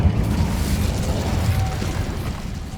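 Incendio fire spell cast in Hogwarts Legacy, a loud sustained whooshing, rumbling burst of flame that holds steady and then slowly eases off.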